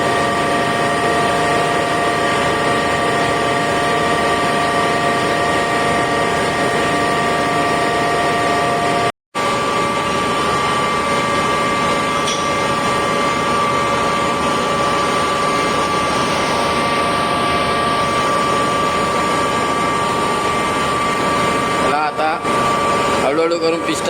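A freshly repaired generator aboard a merchant navy ship runs with a loud, steady mechanical drone and hum that fills the engine space, continuing unbroken apart from one momentary dropout.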